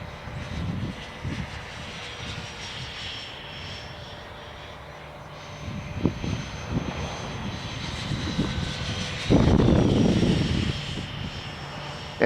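A FreeWing A6 Intruder RC jet flies past with a steady whining electric ducted-fan drone that swells louder near the end, heard outdoors at moderate distance.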